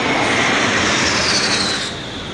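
Military aircraft, including Albatros jets, fly over a parade in Bratislava: a loud, steady broadband jet roar fills the whole clip and eases slightly toward the end, with no voices.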